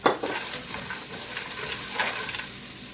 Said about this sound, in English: So we're going to add in the cashews